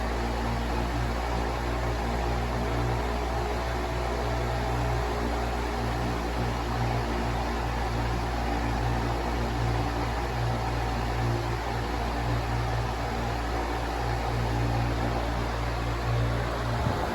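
A Patton U2-20CW fan spins a Schaefer blade, giving a continuous loud whooshing drone with a low motor hum underneath, steady and close for the whole stretch without any speech.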